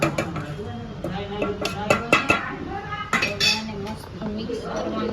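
Grated coconut stirred into reducing milk with cardamom powder in a metal pan, spoon scraping and clinking against the pan in an irregular rhythm while someone talks over it.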